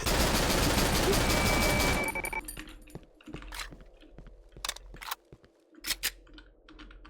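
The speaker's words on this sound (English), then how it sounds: "Okay, I'm just gonna spam bullets at Bookface" Rapid gunfire spammed at an enemy in the Cry of Fear video game: a loud, dense burst of shots, followed by a series of sharp, separate cracks and clicks spaced irregularly over quieter background.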